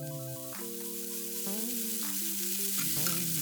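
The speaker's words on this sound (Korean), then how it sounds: "식용유 2스푼, 다시 중불에 팬 올려서 따끈따끈하게 달궈주면 숙주 넣고" Bean sprouts hit a hot oiled pan on medium heat and hiss in a continuous bright sizzle, with steady music playing over it.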